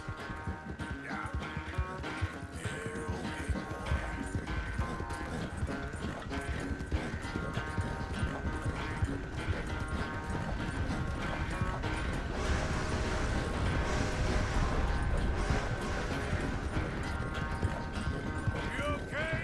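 Horse hooves clip-clop at a steady walking rhythm in Red Dead Redemption 2, mixed with tack jingle and game ambience, while characters talk over the continuous hoofbeats.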